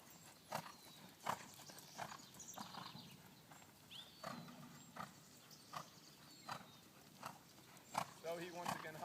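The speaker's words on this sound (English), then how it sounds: "The horse is in a working trot." A horse in a working trot, fitted with a chambon, with hooves striking in an even, two-beat rhythm that repeats about every second, clear and moderately close against a quiet background.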